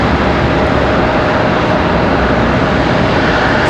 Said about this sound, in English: Got another one landing center here. This one another E175 for Delta.